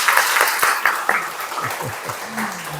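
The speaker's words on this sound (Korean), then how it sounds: "박수 올려드리겠습니다" A church congregation applauds: a burst of brisk clapping that fades over a couple of seconds, while a voice speaks faintly beneath it toward the end.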